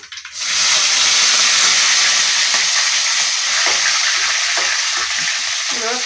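Mustard seeds, cumin, curry leaves and chopped chillies hit hot oil with a sudden loud sizzle that holds steady and close, with small crackles and spatters throughout.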